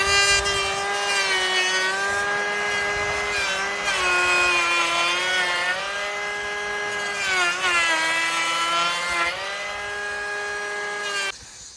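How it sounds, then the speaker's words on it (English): Milwaukee compact power planer cutting wood, a loud, sustained high whine that dips in pitch several times as the blade bites, running alone for about eleven seconds before cutting off. "This little planer is made by Milwaukee"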